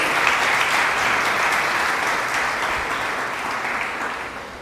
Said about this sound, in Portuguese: Vamos aplaudir o Senhor mais uma vez.